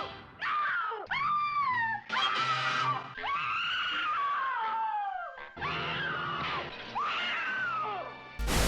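A woman voicing Betty Brant in the 1967 Spider-Man cartoon lets out a series of long, loud, wavering screams, one after another with brief breaks and no talking.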